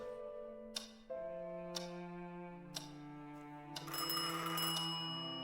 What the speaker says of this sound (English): Ah, phone call.